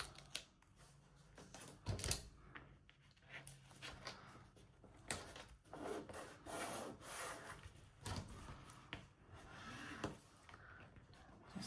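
Scissors snipping a small piece off a paper album cover, a handful of short, quiet cuts and rustles spaced irregularly, close and soft with no talk.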